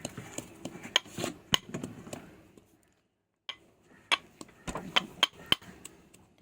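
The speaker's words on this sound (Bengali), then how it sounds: "এই হামানদিস্তার মধ্যে এখন লঙ্কাটাকে পুরো কুচি কুচি করে এখন চেতে নিচ্ছে পুরো।" Chillies pounded in a hamandista mortar and pestle: sharp, irregular metallic knocks in quick clusters, a short silent pause, then more strikes, close and fairly clear.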